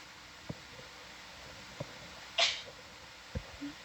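A single short, sharp sneeze, fairly close, in a quiet room with faint hiss and a few soft thumps.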